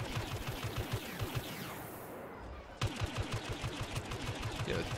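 Rapid, rhythmic blaster and gunfire bursts from the Star Wars Battlefront game, dense and continuous with sharp repeated shots and a brief dip midway.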